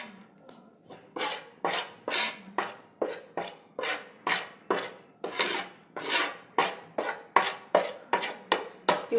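Sambar spices and ingredients dry-roasting in a pan, stirred with a spatula in steady rhythmic scrapes and rasps, about two per second, close and fairly quiet with no voices.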